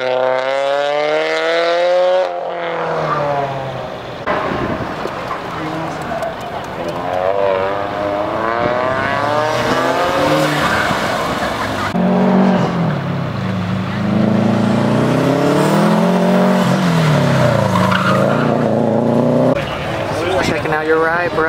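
A loud red right-hand-drive race car at a Boxerfest car show revs its engine in long rising and falling sweeps, close and dominant, with only brief pauses between pulls.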